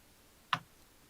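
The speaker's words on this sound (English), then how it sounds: "You can only hear the faint ticking." A single faint, sharp tick sounds once near the middle of an otherwise quiet stretch, brief and isolated, with no further ticks following.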